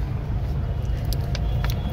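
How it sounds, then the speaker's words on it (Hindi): A car's engine idles steadily just after being started, a loud low rumble that holds throughout with faint higher rattles and ticks on top. "ये हमारी गाड़ी हो गई स्टार्ट और हम चल दिए काम की तरफ।"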